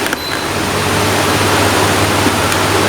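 A repaired electric fan runs at medium speed, a steady broadband whoosh of moving air with a faint low motor hum, continuous and close.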